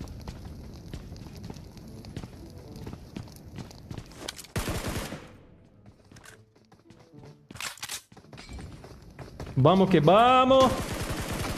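Gunfire in the PUBG Mobile video game, with bursts of shots and game effects scattered through the clip around a player talking, then a louder stretch near the end.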